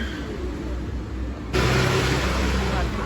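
Road traffic rumbling past a roadside cafe in Montenegro: a steady engine and tyre roar from nearby vehicles that swells noticeably louder halfway through as a car passes close by.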